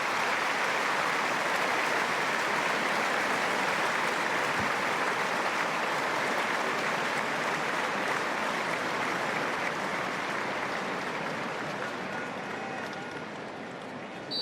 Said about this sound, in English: As we pause and give a round of applause to Declan Black.